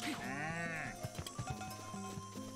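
A cow moos with a drawn-out tonal call in Zelda: Breath of the Wild, followed by soft rhythmic game sound effects and ambience at a modest level.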